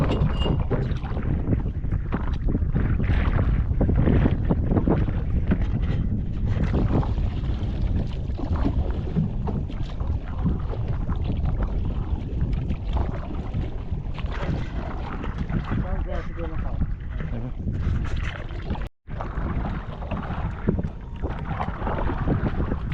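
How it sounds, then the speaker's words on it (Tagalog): A boat on open water in the Philippines moves steadily along under constant wind buffeting, with water noise and engine-like rumble continuing throughout and one brief dropout near the end. "Dito, nandito sa bangka."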